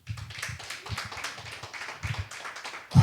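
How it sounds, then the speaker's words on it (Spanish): A small church congregation gives scattered, uneven hand claps, a few sharp individual claps and taps with gaps between them, fairly close and moderate in level, ending on one louder bump. "Un fuerte aplauso"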